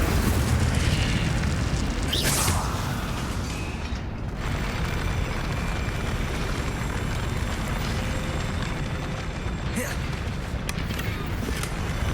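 Incendio fire spell cast in Hogwarts Legacy, a roaring fiery burst with crackling flame over a dense, loud rumbling bed, followed by another sharp flare later, with a voice speaking in places.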